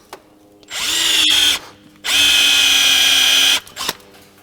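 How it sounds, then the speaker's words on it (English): A number 7 bit drills into metal in two loud bursts, each whining up to a steady high pitch and then stopping, with brief pauses and small clatters in between. "drilling it with a number 7 drill bit here for a 1/4-20."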